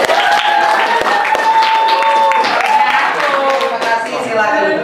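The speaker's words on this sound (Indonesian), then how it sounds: "Oke, beri tepuk tangan." Clapping from a group at a school class event, loud and steady for about five seconds, with voices and chatter mixed through the clapping.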